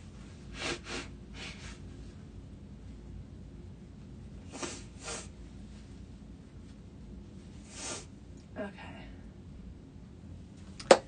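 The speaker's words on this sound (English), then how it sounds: "Let me just quickly blow my nose." A person blowing their nose in several short, breathy bursts spread across a quiet indoor stretch, close to the mic with no talking.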